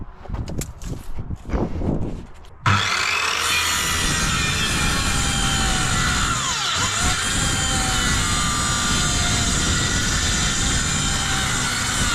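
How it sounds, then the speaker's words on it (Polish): A hand saw rasps through wood while insulating a garage, after a few quiet knocks and handling noises, then continuous loud, close sawing strokes that run to the end. "To tak samo piłą machnemy"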